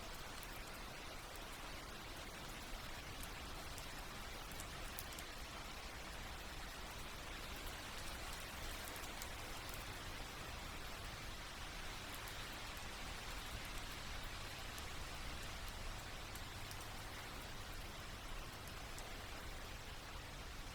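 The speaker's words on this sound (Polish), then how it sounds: "Wyobraź sobie, że deszcz staje się odrobinę delikatniejszy" Steady, dense rain pattering on a surface, a constant soft hiss that holds unchanged throughout with no voices.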